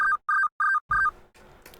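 A telephone in the video game Remember 11 rings with four short, evenly spaced electronic tone bursts, loud and close, followed by a muffled fading tail.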